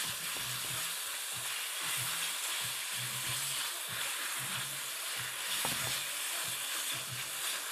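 Beef strips frying in a pan, a steady loud sizzle and hiss with soft rhythmic scraping and clicks from stirring throughout.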